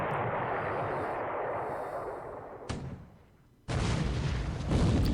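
A ship's gun fires in a naval war game, a single sharp boom bursting out after a roaring rumble fades, loud and close with no talk.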